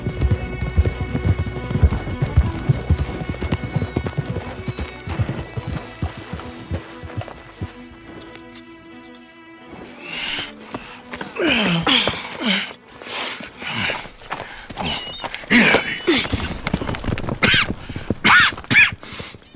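Hooves clip-clop in a steady trot in Red Dead Redemption 2, fairly close, with rustling and shifting movement sounds joining partway through and the hoofbeats continuing throughout.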